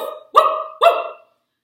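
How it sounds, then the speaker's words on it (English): A dog barks twice in quick succession, close and loud, with sharp short barks and silence afterward. "the dog starts barking something wild."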